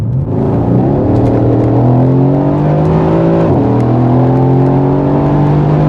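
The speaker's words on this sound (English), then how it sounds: "It was tilted, so that's now full throttle." A 2017 Mercedes-AMG C63 with a new exhaust pulls hard at full throttle, its loud, close engine note climbing steadily, dipping briefly at a gear change, then rising again. No one talks.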